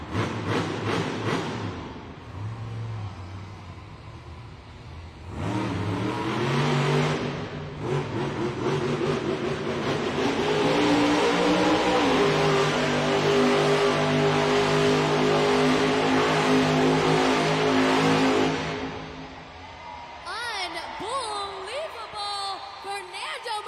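El Toro Loco monster truck roars and revs through a donut competition in a San Jose arena, its loud engine rising and surging for a long stretch under an announcer's voice and crowd noise before easing off.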